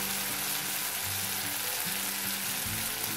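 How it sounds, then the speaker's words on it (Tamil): Dissolved tamarind poured into a hot pan for rasam, giving a dense, steady, close sizzle and frying hiss throughout with low bubbling underneath and no talk. "இப்போ கரைச்சி வச்ச புளியை போடலாம்."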